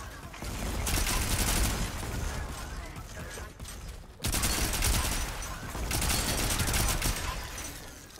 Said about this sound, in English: Got double shotgun blasted in the face